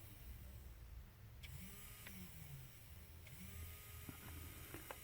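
Small electric motor switched on during a step-up active PFC test on the bench, giving a steady low whirring hum that runs throughout at moderate level with a few faint clicks over it.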